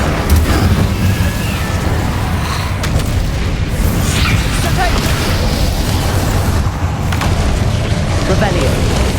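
Incendio fire spell effects in Hogwarts Legacy: loud whooshing bursts and booms with crackling, pops and splintering debris, repeating over a dense combat din, with a voice heard at times.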